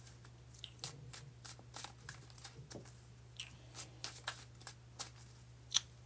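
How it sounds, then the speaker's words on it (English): Tarot cards are bridge shuffled, with a series of quiet crisp riffling and snapping bursts at an uneven rhythm, close and soft with no talking. "Then we will do the bridge shuffle."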